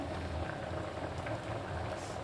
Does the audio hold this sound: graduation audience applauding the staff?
no